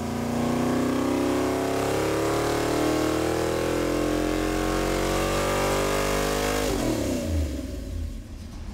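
Ford 460 V8 on a dyno revving up to 6,000 RPM, a loud sustained roar climbing steadily in pitch for several seconds before abruptly dropping off as the throttle closes, alone and close.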